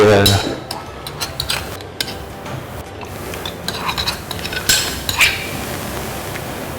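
Seasonings such as sugar, pepper and fish sauce stirred into meat for Vietnamese jellied meat, with busy clinking and scraping of a utensil against a pot or bowl, close and continuous, and a voice faintly audible at times.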